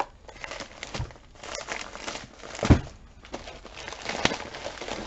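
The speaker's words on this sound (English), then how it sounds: "Sorry for crinkles in advance." Plastic bag crinkling close to the microphone in irregular bursts of rustling and crackling, with a louder crunch near the middle, and no voices.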